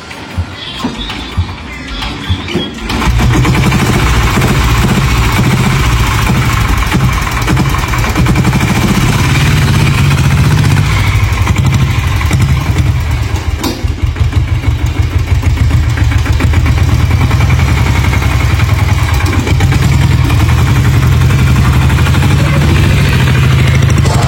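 An old diesel Royal Enfield Bullet motorcycle catches after a brief quiet moment and settles into a loud, close, steady thumping idle with a deep rhythmic chug that continues without a break.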